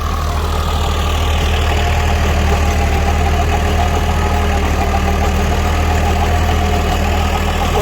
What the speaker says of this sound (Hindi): और अब ट्रैक्टर जो है ना आरपीएम खा रहा है, मुझे देखो आवाज़ समझ आ रही है इसकी